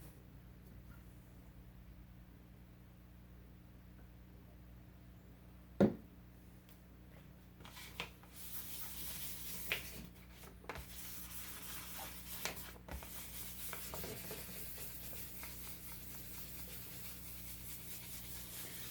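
Fine 1000-grit sandpaper rubs over a guitar body during polishing, a soft steady scratchy hiss with a few sharper knocks, quiet and close.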